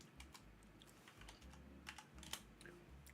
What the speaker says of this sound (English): you can't see me typing